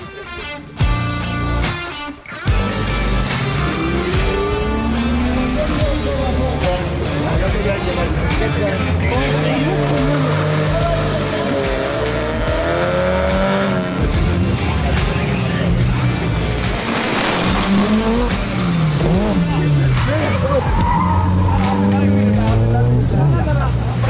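A race car on an autocross run at a Pakistani event roars continuously, its engine pitch climbing and dropping through shifts and corners, with tyre squeal and a commentator talking throughout.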